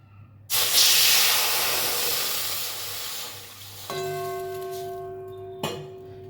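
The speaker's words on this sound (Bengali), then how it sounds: "প্রথমে আমি কড়াতে জল দিয়ে দেবো।" Water splashed into a hot kadai (wok) before cooking mung dal sends up a sudden loud burst of hissing steam that slowly fades, followed by a couple of ringing metallic clinks.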